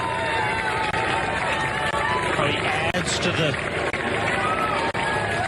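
Roadside crowd near the Berlin Marathon finish, a loud continuous roar of cheering and shouting spectators with a commentator speaking over it.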